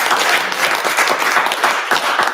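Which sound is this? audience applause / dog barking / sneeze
audience applause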